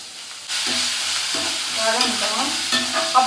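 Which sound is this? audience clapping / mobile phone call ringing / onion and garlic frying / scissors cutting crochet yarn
onion and garlic frying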